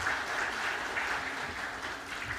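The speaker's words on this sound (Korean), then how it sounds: "우리 시온찬양대를 위해서 격려의 박수 한번 해주시기 바랍니다" A church congregation at a Sunday worship service gives the Zion choir a steady, full round of applause that holds at an even level throughout, with no speech over it.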